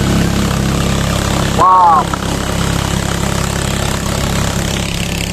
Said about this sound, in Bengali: আর মধ্যে দিয়ে আমরা একটা ট্রলার নিয়ে যাচ্ছি